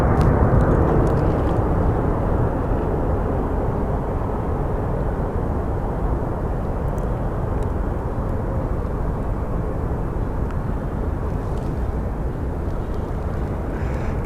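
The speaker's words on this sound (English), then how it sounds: "now we do have one of our Southwest planes taxiing in" Steady, broad jet roar of a Southwest Airlines plane taxiing at Sky Harbor airport in Phoenix, a continuous loud wash of engine noise lasting the whole stretch with no voices.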